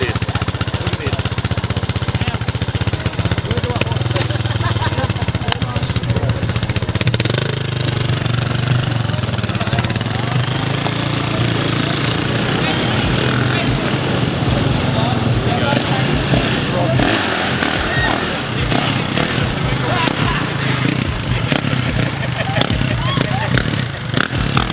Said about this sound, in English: would you mind showing Big Rossi the way to do a wheelie with him holding on the back?